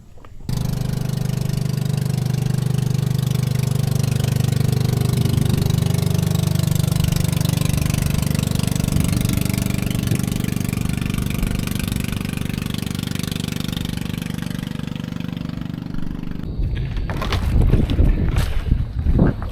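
A boat engine idles in the Philippines as boats arrive: a low, steady motor rumble that holds close and loud for about sixteen seconds. Louder knocks and splashy bumps follow near the end.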